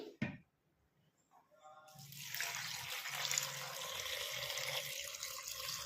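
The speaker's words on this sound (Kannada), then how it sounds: "ಇವಾಗ ಇದಕ್ಕೆ ನೀರು ಆಡ್ ಮಾಡ್ತೀನಿ" Water runs steadily into a pot of palak and dal sambar after a brief clatter, a continuous close splashing stream that fills most of the clip.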